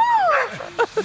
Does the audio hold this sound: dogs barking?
yes